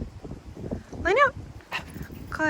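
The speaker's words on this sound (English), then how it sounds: "if your dog is barking and going crazy, that's okay" A sled dog lets out a sharp yip and a short whimpering whine among shuffling noise, with a person talking nearby between the calls.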